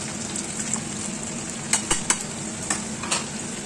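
Whole garam masala, bay leaves and cumin seeds frying in hot oil for a Bengali potol chingri with prawns, a steady close sizzle broken by several sharp spatula scrapes and stirs in the second half.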